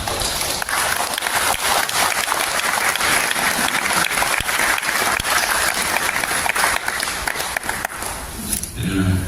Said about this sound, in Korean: 나오실 때 우리 박수로 맞이하겠습니다.